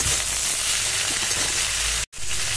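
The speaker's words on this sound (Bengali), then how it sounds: "লবণ আর হলুদ দিয়ে ভালো করে ভেন্ডিটাকে মানে ঢেঁড়সটাকে নাড়া দিচ্ছি।" Okra frying in hot oil with salt and turmeric while being stirred, a steady close sizzle and hiss with a brief break near the end.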